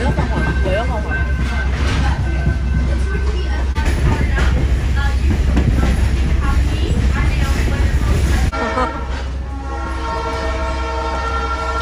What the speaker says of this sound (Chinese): 绿铁皮车很慢很慢，觉得老美啊，摇摇晃晃，摇摇晃晃。